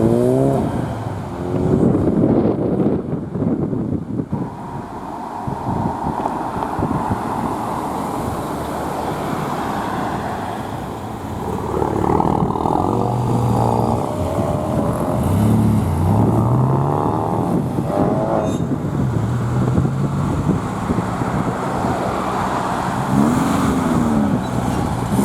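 A Ford Escort Mark III RS drives past at an outdoor RS car gathering, its engine note rising and falling as it moves by amid a steady wash of other cars and crowd noise.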